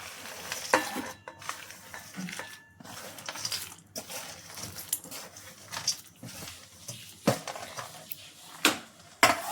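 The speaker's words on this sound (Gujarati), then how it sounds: "ઘી ગરમ થઈ ગયું. હવે આપણે આ બધા ડ્રાયફ્રૂટ નાખી દઈશું." Dry fruits for date laddus roast in hot ghee in a pan, giving a steady frying sizzle broken by repeated spoon stirs and scrapes against the pan, close and fairly loud, with no talking.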